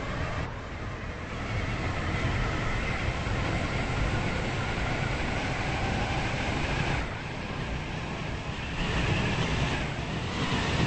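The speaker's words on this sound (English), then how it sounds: "Please mind the gap between the train and the platform." A continuous low rumble of a video-game train running along the track, steady with slight swells in intensity, heard from inside without voices.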